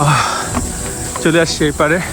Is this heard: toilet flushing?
no